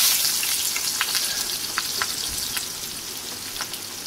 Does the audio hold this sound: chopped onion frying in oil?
yes